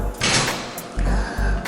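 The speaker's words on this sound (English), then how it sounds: "Close the door." A door pushed shut during a Velcro hook-and-loop test, giving a few dull thuds and rattles close by with a sliding, scraping quality between the knocks.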